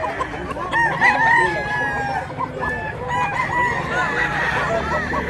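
Several roosters crow and hens cluck close by in a poultry yard, overlapping calls rising and falling repeatedly, with a voice speaking briefly underneath.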